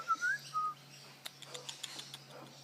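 A king parrot gives a few short whistled calls near the start, followed by a string of faint scratchy chirps and ticks, close by in a quiet outdoor setting.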